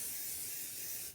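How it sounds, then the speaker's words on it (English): A short steady hiss of spray adhesive aimed onto quilt wadding, close and continuous, fading out at the very end. "always spray your wadding, not the fabric, even though you'd be tempted to"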